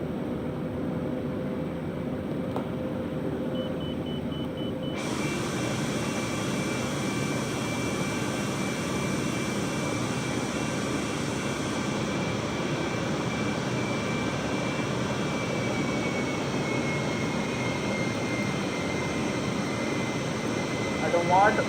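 Airbus airliner engines in Microsoft Flight Simulator hold a steady, even jet roar and hiss for the whole stretch, with no voices over it.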